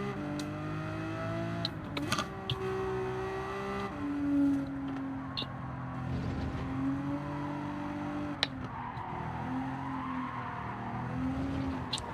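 A Lamborghini race car in Gran Turismo 7 holds a steady engine drone throughout, its pitch shifting with throttle, with brief tire squeal and skidding bursts near the start and a sharp transient later.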